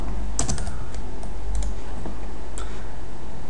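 Computer keyboard typing in bursts, a quick cluster of key clicks followed by a few scattered keystrokes, close and fairly crisp over a low steady hum.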